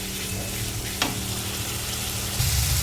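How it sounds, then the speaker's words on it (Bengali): Spice masala frying in oil for a duck egg curry with green banana and potato: a steady, close sizzle with a short clatter near the start and a louder surge of hissing toward the end, no voices. "এখন মশলাটা আমার ভাজা হয়ে গেছে তেলটা উপরে উঠে এসেছে"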